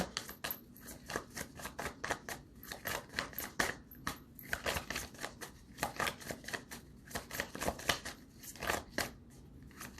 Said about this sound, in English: A lot of cards are flipping